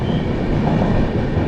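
A goods train hauling coal rumbles past in Bengal, a loud, continuous, dense roar of wheels and wagons with no voices over it.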